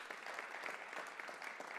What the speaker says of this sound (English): They deserve a big round of applause for tonight.